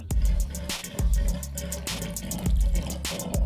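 A human voice imitates a clogged faucet with gurgling, sputtering bursts, loud and close, in an uneven rhythm of thick low gulps and spitting splashes.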